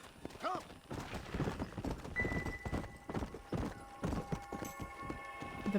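Horse galloping in Red Dead Redemption, rapid rhythmic hoofbeats up close with a whinny early on, a person talking over it and game music tones underneath.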